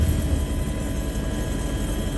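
A steady, loud drone of a helicopter overhead during flooding in the Czech Republic, with a constant low rumble and whirring rotor noise throughout.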